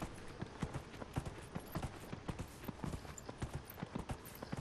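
A horse gallops in Dragon Age: Inquisition, its hooves striking in a quick, regular clip-clop rhythm at close range, with a faint game ambience underneath and no talk.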